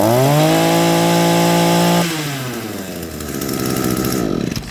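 An Echo SRM 225 string trimmer engine, fault from a clogged muffler, revs hard at high pitch for two seconds, then drops to a rough lower idle and picks up again, loud and close with no talk.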